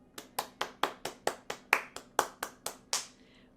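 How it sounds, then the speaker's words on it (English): About a dozen sharp claps in a steady, evenly spaced rhythm at a club recognition night, clear and fairly close, with no talking over them. "Let's give them a second round of applause."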